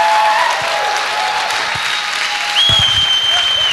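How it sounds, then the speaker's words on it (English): Audience applause at a 1988 live comedy and magic show, a steady dense wash of clapping that swells slightly louder near the end, with a high whistle-like tone running over it. "give him another round of applause"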